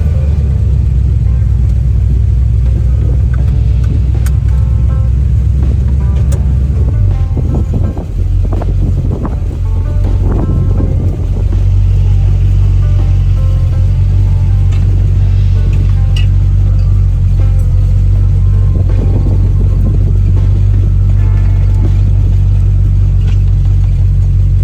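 A 1936 coupe with new rubber boots drives over stony ground with a heavy, steady low engine rumble, buffeted by wind noise on the microphone, plus a brief rougher patch of knocks and rattles partway through.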